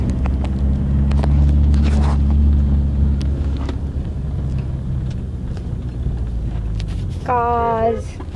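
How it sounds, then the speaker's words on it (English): Steady traffic rumble from cars passing on a Delhi road in the morning, loud and continuous throughout, with a brief horn-like tone near the end. "Cars."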